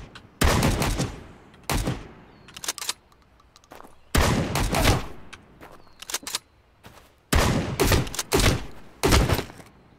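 Bursts of automatic gunfire in the survival shooter game Road to Vostok, three loud volleys of rapid shots separated by short pauses, each followed by a brief echoing tail.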